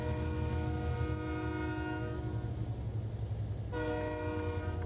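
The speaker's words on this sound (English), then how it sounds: "Good thing we stopped. There's a train coming." A passing train's horn blares in American Truck Simulator, a loud sustained multi-tone chord that holds, cuts out briefly, then sounds again over steady rumbling, with no talking.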